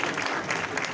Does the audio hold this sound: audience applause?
yes